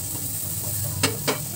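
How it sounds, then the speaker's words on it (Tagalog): Onion dry-sautés in a pan without oil, a faint continuous sizzle broken by two sharp scraping stirs near the end. "isusuti lang muna natin ang ating sibuyas"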